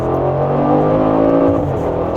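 A twin-turbo V8 sports car engine accelerates, a loud, continuous, close-up roar with a steady harmonic drone that holds throughout.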